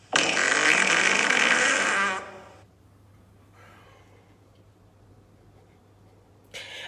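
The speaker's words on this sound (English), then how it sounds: "It was the worst fart of his life. It made a tremendous noise and shot him across the room." A dog's loud, drawn-out fart rasps for about two seconds at close range, then cuts off into near silence with a brief burst of noise at the very end.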